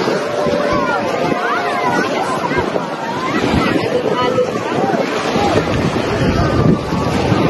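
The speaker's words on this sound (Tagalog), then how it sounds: "Ang lakas ng hangin." Strong wind at Katara Beach rushing across the microphone in a constant roar, with muffled voices and outdoor noise mixed underneath.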